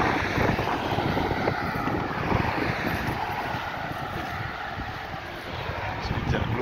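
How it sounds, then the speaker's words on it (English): A JetBlue jet takes off at Grantley Adams International Airport in Barbados, its engines a steady, broad roar heard from a distance, mixed with wind buffeting the microphone. "So the jet blue plane taking off again."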